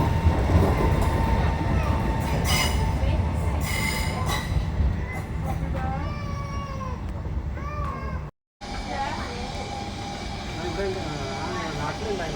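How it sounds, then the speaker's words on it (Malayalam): An Italian intercity train rumbles past with loud, high metallic wheel squeals sweeping up and down, a steady heavy roar throughout, briefly cutting out near the end. "അപ്പം ഇത് ഇൻ്റർസിറ്റിയാണ് കേട്ടോ."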